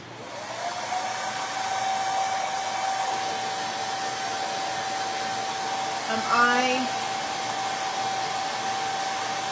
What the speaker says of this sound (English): let me just spot this with the dryer really quick